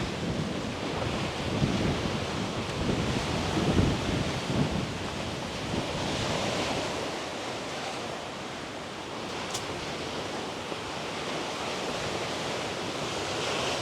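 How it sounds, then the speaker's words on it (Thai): Ocean surf rolls and washes continuously onto the shore at Khao Laem Ya National Park in Rayong, Thailand, a broad steady roar with wind buffeting the microphone. "ไม่รู้ว่าได้ยินเสียงกันชัดหรือเปล่า หรือว่าได้ยินเสียงคลื่นชัด"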